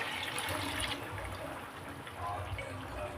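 Water pours into a pot of coconut-milk biryani rice, giving a continuous splashing, gurgling stream heard up close with a brief surge near the end.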